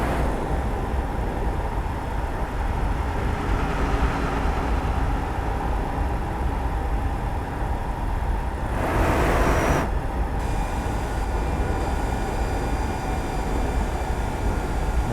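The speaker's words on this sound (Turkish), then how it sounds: "toz freni falan çok güzel sesi." A Ford F-Max truck in Euro Truck Simulator 2 rumbles with a steady engine drone, and a short loud burst of exhaust-brake hiss cuts in near the end before the engine sound carries on.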